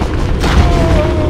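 A magnum revolver fired in the Resident Evil Outbreak video game gives one loud, booming shot with a low thump, then a sustained rumbling tail under steady game ambience.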